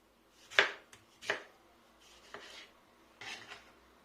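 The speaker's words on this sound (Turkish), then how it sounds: "bir tane domatesi içine doğruyorum" Knife chopping through a thin-skinned pink tomato on a cutting board in a home kitchen, a few distinct sharp cuts spaced irregularly, close and fairly clear with quiet pauses between.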